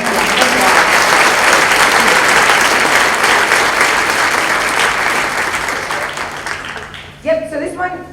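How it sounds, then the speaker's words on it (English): A school concert audience at a 7th and 8th grade choir event applauds for Mrs. Zimmerman, a loud, dense wash of clapping that fills the room steadily before tapering off, with some voices rising near the end. "let's give Mrs. Zimmerman a round of applause."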